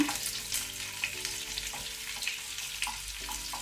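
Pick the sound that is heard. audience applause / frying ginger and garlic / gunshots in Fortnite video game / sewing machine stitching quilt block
frying ginger and garlic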